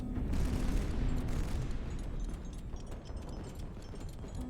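Ship guns firing in the naval strategy game High Fleet, a dense, continuous barrage of booming shots and blasts rolling together at close range, loud throughout with a slight easing after the midpoint and no talking.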